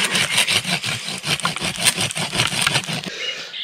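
A hand saw rasps through palmatum bonsai wood in quick, rhythmic back-and-forth strokes, a dozen or so close and loud, before stopping abruptly.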